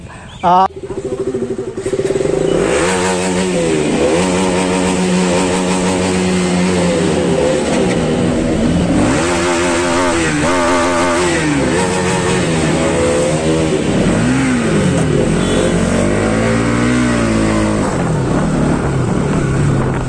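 A group of about ten motorcycles starts out together on an Independence Day ride, engines loudly revving and droning close by, with people talking over the steady roar.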